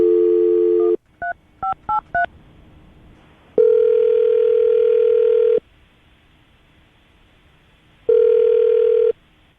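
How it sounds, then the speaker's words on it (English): Phone dialing: a short opening tone, then a quick run of DTMF keypad beeps, followed by two long, steady ringback tones separated by a gap of line hiss, placed before a radio-show call. "We're going to call her right now, get her on the phone"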